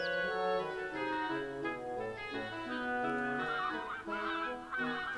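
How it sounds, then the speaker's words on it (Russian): Geese honking in a Russian fairy tale reading, a run of overlapping nasal honks and calls, fairly close and busy, heard alone without narration. "А гуси за нею в погоню летят."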